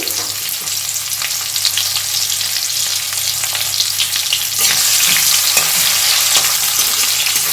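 Finely chopped tomato frying in oil for a potato curry, a dense steady sizzle close by that swells louder partway through, with intermittent stirring scrapes.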